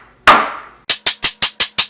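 A metal cake tin of custard milk cake batter knocks against a kitchen counter: one ringing clang, a pause, then six quick evenly spaced taps, close and crisp with nothing else heard.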